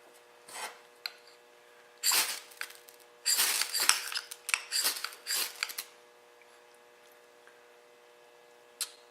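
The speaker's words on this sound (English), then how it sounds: "I'm going to loosen the top up with my knife" A knife blade rasps and scrapes against a fire starter nugget to loosen its top, in several short close bursts with pauses between, then one final brief scrape.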